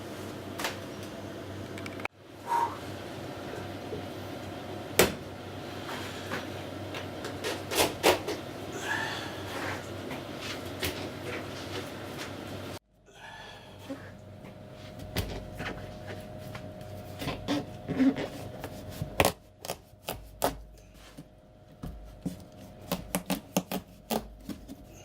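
A knife chopping a pumpkin, heard as repeated sharp taps and thuds at an uneven pace, close and moderately loud over a quiet room, with a brief pause partway through.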